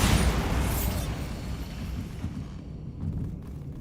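A Bombarda explosion spell in Hogwarts Legacy bursts loudly at the start, its low rumbling roar decaying gradually over a few seconds without any speech.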